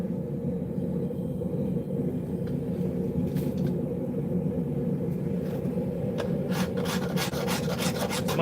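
A rasp file rubs back and forth across metal at a forge, making continuous coarse scraping and grinding. A low rumble sits underneath, with sharper scratchy strokes toward the end.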